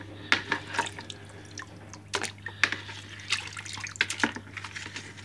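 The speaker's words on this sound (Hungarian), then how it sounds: "ilyen keféket használok, sima vízzel, meg kefével megpróbálok benyúlni" Brush scrubbing the rubber door seal of a washing machine with plain water, giving irregular wet scrapes and splashy strokes at close range over a low steady hum, with no speech.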